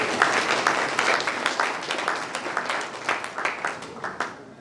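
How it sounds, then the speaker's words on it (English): A round of applause during a live stream, scattered individual claps forming an uneven, moderately loud patter that thins out toward the end. "I think that is worthy of a round of applause."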